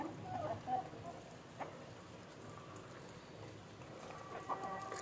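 Rain falls steadily outdoors in the morning where native country chickens are kept, a soft, continuous patter with a few slightly louder drops.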